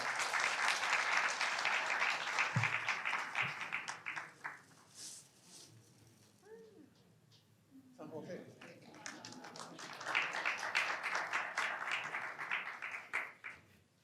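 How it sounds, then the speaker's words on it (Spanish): An audience applauds after a talk on youth and social challenges, first a full round of clapping that fades, a brief pause with a voice, then a second strong burst of applause before trailing off. "muchas gracias. Un nuevo aplauso,"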